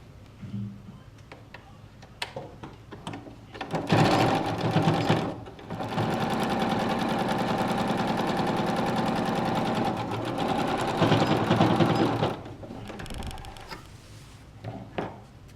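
A sewing machine runs a straight stitch along the folded end of a fabric piece, starting with a few ticks and then buzzing steadily and loudly for about eight seconds before stopping.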